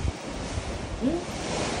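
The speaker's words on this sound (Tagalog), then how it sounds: "Tumaragasa ang lakas ng alon." Strong ocean waves surge and crash around a passenger ship at sea. A continuous roar of wind-blown surf fills the short stretch, with no voices.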